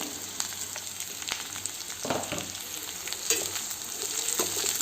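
Carrots frying in oil in a pan for semiya upma, an even crackling sizzle broken by several sharp stirring scrapes and taps, close and moderately loud, no voices.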